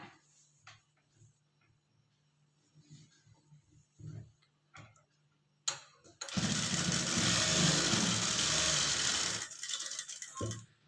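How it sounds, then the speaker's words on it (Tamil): Sewing machine running a seam on blouse fabric, a steady loud whirring burst lasting about three seconds after scattered quiet handling clicks, then stopping. "அதே நேர் இந்த சைடும் மார்க் பண்ணிவிட்டு தையல் போட்டுக்குங்க"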